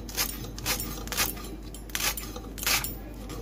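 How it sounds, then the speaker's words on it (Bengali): A knife chops leaf cabbage (pata kopi) for pakora on a board up close, crisp rhythmic cuts landing roughly twice a second over a low background hum. "কত সুন্দর বাজছে দেখেন কপিটা"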